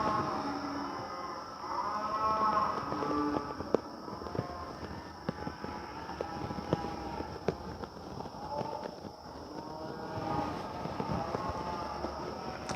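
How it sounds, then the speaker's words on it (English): Cattle lowing over and over at an outdoor museum site in Dodge City, Kansas, with long drawn moos rising and falling at a distance, almost unbroken, under a steady high whine and scattered footsteps. "What the cows that we're hearing, that don't stop. It just keeps going and keeps going."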